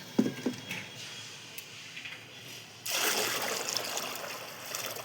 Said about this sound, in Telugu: ఈ బకెటడు ఈ బియ్యం కడిగిన వాటర్ వేస్తే మళ్ళీ ఈ బకెటడు వాటర్ పోస్తానండి